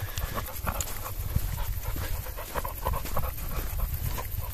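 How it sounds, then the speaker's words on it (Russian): An American bulldog pants hard in summer heat outdoors, rapid rhythmic breaths close to the microphone continuing steadily without any speech. "Вон и так дышишь от этой жары."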